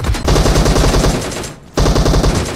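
Rapid automatic gunfire in the mobile shooter BGMI, loud and close, one sustained burst, a short pause, then another continuous burst.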